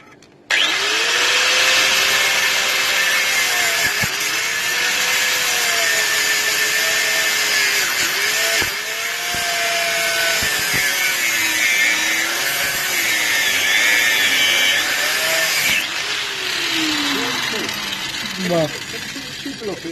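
An angle grinder runs continuously near the top of a Land Rover Discovery 2 exhaust, its high whine dipping and rising in pitch as it loads up while cutting, loud and close throughout.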